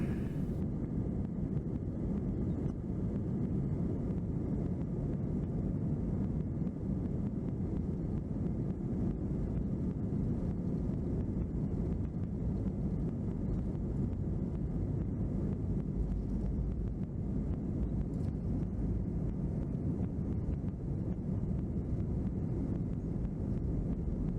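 A Qatar Airways passenger jet takes off from the runway at Jomo Kenyatta International Airport in Nairobi. Heard from inside the cabin, a steady low engine roar and rumble runs throughout without talk.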